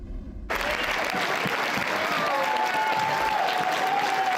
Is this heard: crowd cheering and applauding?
yes